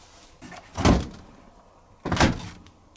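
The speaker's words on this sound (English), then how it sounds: "Ratchet door." The door of a Bosch Serie 4 WAN28081GB 7kg front-loading washing machine closes with a ratchet mechanism, two distinct clunks about a second apart, close and fairly loud.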